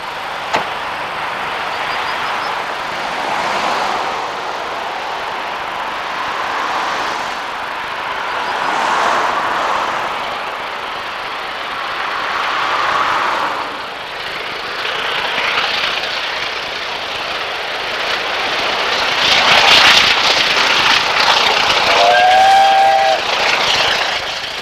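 Steam locomotive 7100 Duke of Gloucester works hard climbing a grade with its train, a steady rushing exhaust swelling and fading as it passes, with a whistle sounding near the end.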